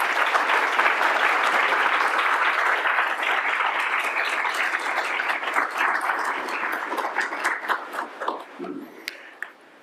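A lecture audience gives warm applause to welcome the speaker, with sustained loud clapping that slowly thins out to a few scattered claps as it ends.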